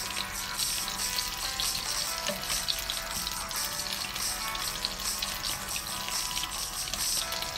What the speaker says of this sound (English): add a little bit of butter, a little bit of cooking oil, then let the butter get melt